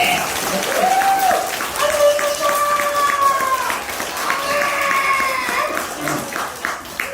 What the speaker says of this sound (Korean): 우리 사모님께 박수라도 치고 세게 치라 그랬지